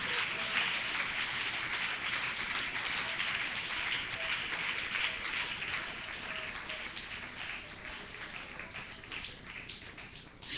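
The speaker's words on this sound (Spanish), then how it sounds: "Aplauda la presencia del Señor en esta noche." A church congregation applauds during an evening worship service, a steady, dense patter of many hands that sounds almost like rain and holds for about ten seconds, gradually easing toward the end.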